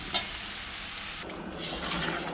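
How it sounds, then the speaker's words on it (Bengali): Fried Malabar spinach and potato going into a pan of spiced frying pumpkin, a steady close sizzle with stirring scrapes, no voices. "এবার আমি এর মধ্যে দিয়ে দেবো ভেজে রাখা পুঁই শাক আর আলু"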